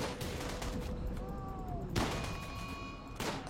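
Gunfire sounds from the video game RimWorld: several sharp shots crack in quick succession over faint game tones, with steady background hiss and no talking.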